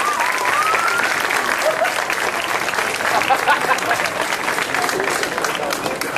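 A large audience at a cosplay show applauds loudly and steadily, dense clapping filling the hall for several seconds with faint crowd voices mixed in.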